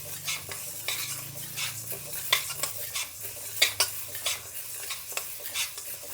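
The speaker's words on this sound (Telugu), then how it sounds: "ముందుగా బియ్యము ఉద్దిపప్పు వేయించుకుందాం రండి. బాగా కలుపుతూ వేయించుకోవాలండి." Rice and urad dal dry roasting in a pan while being stirred, giving a steady scraping rustle broken by sharp clinks of the spoon against the pan, close and continuous with no voices.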